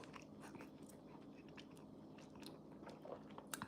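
Someone bites and chews homemade bread, with soft crunching bursts and mouth sounds close to the mic over a low steady background hum, quiet and continuous for a few seconds.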